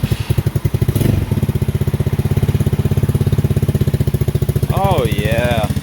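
An X-Pro 150cc Bali motorcycle engine with a new exhaust and air filter, running loud and close with a steady fast chugging idle pulse that holds throughout, briefly revved near the start, with a voice speaking over it toward the end.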